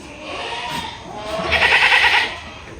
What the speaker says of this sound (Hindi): देखो कैसी चिल्ला रही है और कैसी दुम हिला रही है? This is the sign of heat. ये बकरी हीट पे है।